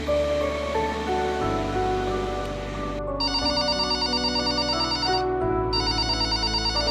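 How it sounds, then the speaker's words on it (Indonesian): Phone ringtone of an incoming call, a melodic electronic tone repeating in steady bursts, loud and close, playing alone with no speech. "Terdengar suara panggilan telepon."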